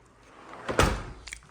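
The front door of a house swings open with one short, fairly close thump and rattle, followed by a faint softer knock.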